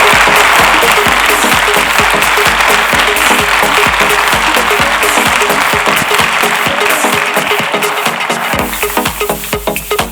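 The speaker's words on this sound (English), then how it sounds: "A big round of applause for Mr. Mir as well." Audience applause at a kids' summit panel session, loud and steady with distinct rhythmic claps mixed into the crowd noise, easing off and thinning near the end.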